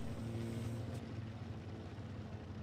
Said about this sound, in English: I hate the sound of these engines, by the way. It's like there's a constant bee in your ear.